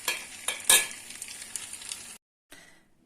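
Stale bread fries in a hot pan with a bright, steady sizzle and crackle, interrupted by a few sharp stirring scrapes, then a brief silence before the sizzling returns.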